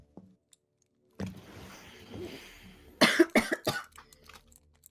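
A burst of harsh coughing from dust, several quick hacks in a row, close by, after a stretch of quieter rustling and faint noise.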